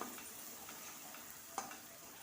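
Curry leaves sizzle in hot oil with a fried spice paste, giving a faint, steady crackle with a small pop partway through and no talk.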